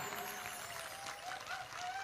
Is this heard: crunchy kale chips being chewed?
no